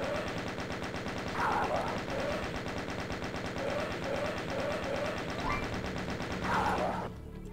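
Rapid sustained gunfire aimed at two Hell Knights in the Doom Zero map Starbourn, a dense rattling stream of shots with brief monster growls, cutting off abruptly near the end.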